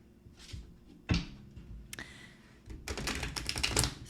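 Tarot cards being shuffled by hand, giving several short papery riffles and soft slaps in brief bursts, fairly close and alone.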